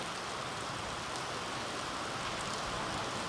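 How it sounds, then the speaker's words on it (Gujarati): Steady, even overnight rainfall hisses continuously with no breaks, a dense wash of drops and no voices. "રાતનો કન્ટિન્યુ વરસાદ આવે છે"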